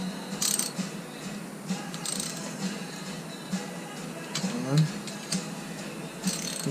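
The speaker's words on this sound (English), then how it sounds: "Just gonna tighten them by hand for now." Bolts on a Suzuki GS250FW motorcycle being tightened by hand give small metallic clicks and ratcheting ticks, close and uneven across the stretch, with faint background noise.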